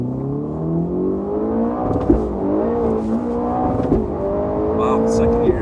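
A Ferrari Roma accelerates hard in second gear, its engine note climbing steadily in pitch with brief dips at the shifts, loud and close, the sound of a driver pushing the car.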